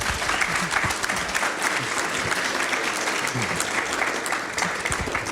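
Steady audience applause fills the room at a conference's closing remarks, dense clapping sustained at an even level throughout with no break.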